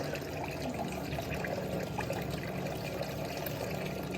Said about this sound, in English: Got our water running nice and smooth.